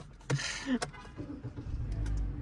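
A 2022 Hyundai Venue with a 1.6-liter engine idles quietly and smoothly as a low steady hum, with a couple of brief clicks and knocks near the start.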